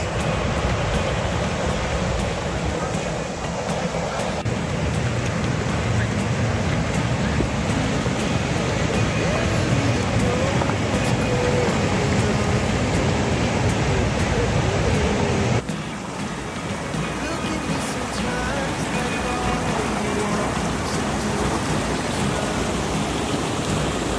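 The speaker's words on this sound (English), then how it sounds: "I wanted waterfalls. And I got waterfalls." Aira Force waterfall in the Lake District, with water rushing and crashing in a loud, continuous roar that stays steady for the whole stretch, its level dipping briefly a little past the midpoint.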